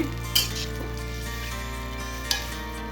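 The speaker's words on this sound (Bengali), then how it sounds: "এখন একটু হাই হিটে ভেজে নিতে হবে এইভাবে" Red flattened rice (chira) fries in a wok over high heat, giving a steady, close sizzle broken by two sharp clinks of a utensil against the pan.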